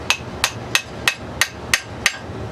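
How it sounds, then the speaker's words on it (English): Seven sharp, evenly spaced metallic taps ring out as a metal part of a T96 assembly, oiled, is knocked against a flat surface, each click bright and close with brief decay and quiet between. "I'm just going to tap the whole thing on a flat surface"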